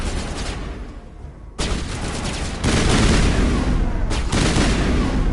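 Bursts of gunfire from the video game Mass Effect Legendary Edition, loud and dense, with sustained volleys and short gaps between them, no talking.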